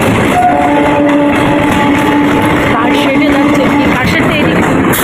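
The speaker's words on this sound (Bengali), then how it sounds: "আমি মেমোরে যাচ্ছি এখন সঙ্গে ট্রেন ট্রেন" A train travelling on rails, heard from on board as a loud, steady rumble with some tonal hum, while people talk over it throughout.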